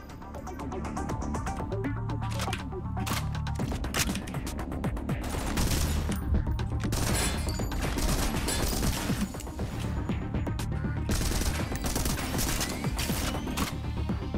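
Dense rapid gunfire from a fast-paced online shooter game, with bursts and shots crackling continuously and loudly across the whole stretch, mixed with mechanical clanks and game effects, no talk.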